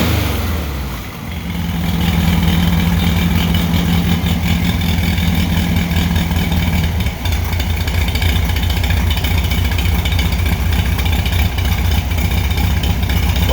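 A VW 1600SP engine fitted with an EMPI GTV, still warming up, idles steadily and loud with a low rumbling pulse, a brief dip near the start and then an even, continuous idle throughout.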